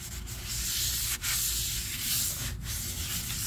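Grease is rubbed off a Buick Encore wheel hub with a cloth, producing a close, continuous rough scrubbing with short breaks between strokes, with no talking.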